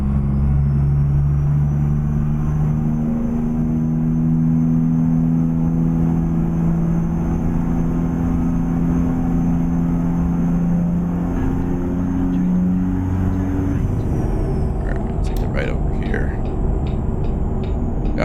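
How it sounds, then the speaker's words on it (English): A truck engine in American Truck Simulator, driving in Arkansas, holds a steady loud drone with a thin high whistle riding on top throughout, and a few brief clicks near the end. "golly, I love the whistle in this engine"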